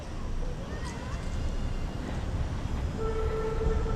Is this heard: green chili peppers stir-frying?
no